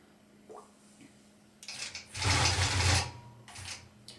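A longarm quilting machine stitching a tie-off on raw edge appliqué rose buds, a quiet start and then a short loud mechanical whirring burst followed by a fainter clatter.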